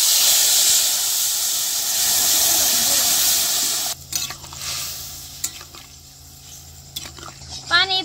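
Whole cumin seeds crackle and hiss loudly in hot mustard oil in a kadai for several seconds, then the frying drops away to quieter clinks and stirring sounds, with a voice briefly heard.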